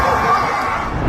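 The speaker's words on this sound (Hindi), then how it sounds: "उनके इसी अंदाज पर भीड़ तालियां पीटती है।" A political rally crowd claps and cheers in a dense, continuous roar of applause and shouting voices, loud and close throughout.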